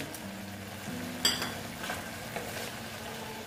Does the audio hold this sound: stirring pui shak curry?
yes